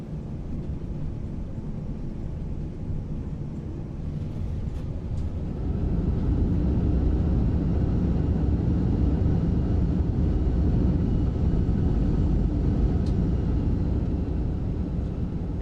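Airbus A340 landing in a flight simulator game: a steady, loud broadband engine and airframe roar that swells and thickens partway through, then holds at a constant level to the end, with no voices.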